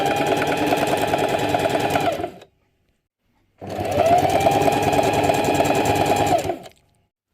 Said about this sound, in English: I'm going to pass it through the machine chain piecing.